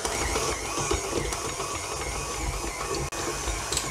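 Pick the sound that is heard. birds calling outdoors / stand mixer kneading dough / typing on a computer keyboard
stand mixer kneading dough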